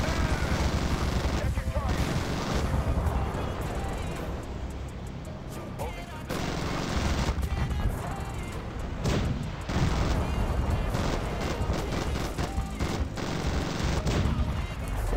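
Heavy automatic gunfire and explosions from a gunship's weapons in the video game Zombie Gunship Survival, dense and continuous bursts over game music and effects, with a person talking throughout.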